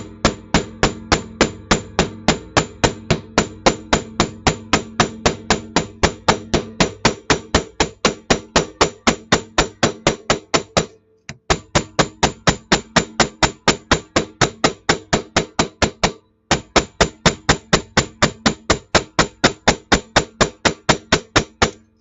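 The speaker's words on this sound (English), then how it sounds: "when you hammer, you're actually displacing the metal" A hammer strikes a sterling silver feather cuff bracelet in rapid, even blows, loud and close, in three long runs separated by two brief pauses, with no talking.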